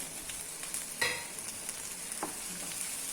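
Onions sauté in a pan with sambar powder and turmeric powder, an even close frying sizzle with a couple of light spatula taps, no talk.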